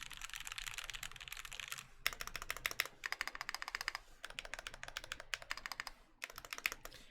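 A newly assembled Clarabelle mechanical keyboard with GMK keycaps is typed on close to the microphone. Bursts of rapid, muted keystrokes are split by short pauses, with the occasional louder clack from a stabilized key.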